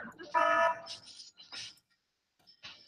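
An alarm sounds in the video game Spyro 2: Ripto's Rage, heard as short bursts of buzzing and electronic tones with gaps of silence between them.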